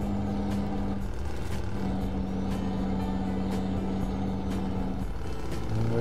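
Scania 1115 truck engine pulling hard with its turbo, a loud steady diesel drone heard from inside the cab with a few faint clicks over the continuous roar.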